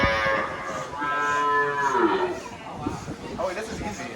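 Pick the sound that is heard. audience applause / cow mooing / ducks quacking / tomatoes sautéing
cow mooing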